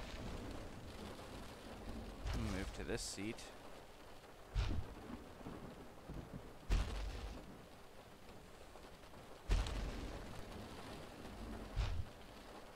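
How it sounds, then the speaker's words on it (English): Rain falls steadily in the video game T Rex Breakout, and several deep thunder cracks boom at intervals over a soft, constant downpour. "It's raining."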